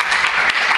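Audience applause at a civil rights and emerging tech session, a brief burst of dense clapping from many hands, fairly loud and steady.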